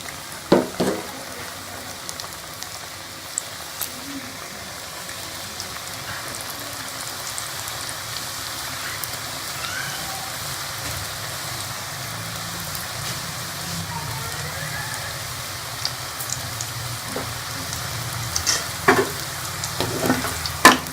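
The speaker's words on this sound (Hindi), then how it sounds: "अब हम इसके अंदर ये नमक पालक डाल देंगे और इसको फ्राई कर लेंगे।" Namak pare dough pieces frying in hot oil in a kadai, a soft, steady bubbling sizzle like light rain with occasional clinks of stirring, faint and continuous throughout.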